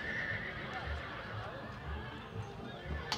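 A horse neighs loudly and close by, its whinny rising over a busy outdoor scene with hoof clip-clops and faint background voices.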